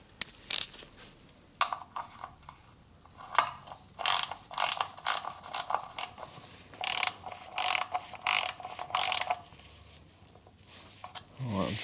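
A ratchet clicks in repeated bursts while tightening the oil drain plug on the alloy sump of a 2011 VW Golf 1.6 TDI diesel, close and fairly quiet with short pauses between strokes.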